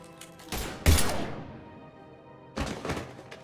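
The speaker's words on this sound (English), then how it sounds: "Now open fire!" Gunfire in the Mass Effect video game: a few heavy, thudding shots spaced over several seconds, with a burst near the start, a loud sharp blast and a later volley, each with a ringing decay.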